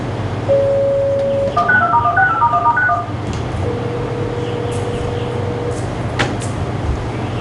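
Telephone keypad tones from a desk phone dialing a lab extension: a steady tone, then a quick run of dual-tone beeps, followed by a long ringback tone against a low background hum.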